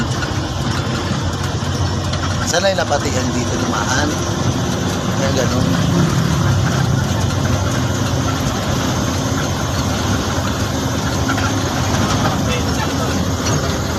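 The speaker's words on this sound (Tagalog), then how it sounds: "malalaki yung makina niyan" A heavy engine rumbles steadily at idle throughout, a low continuous drone with people talking over it.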